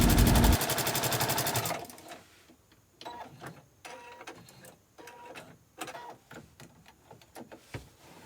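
A sewing machine stitches quilting lines into ottoman upholstery fabric with a loud, fast, steady hum. After it stops, softer clicks and light handling noises of the fabric continue close by.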